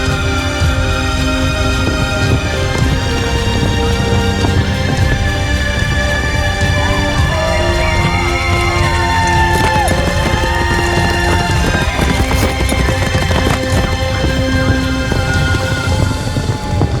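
Racehorses galloping during a race, a dense, rapid clatter of hooves held loud and continuous over a busy, crowded background throughout.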